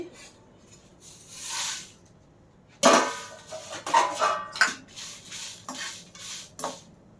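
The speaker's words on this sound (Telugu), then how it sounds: "ఫస్ట్ ఎండుమిరకాయలు వేయించుకుందామండి" Dry red chillies roast in a pan for curry leaf spice powder, a quiet lead-in giving way to loud metallic scraping and clattering of a ladle stirring them, in bursts with short pauses.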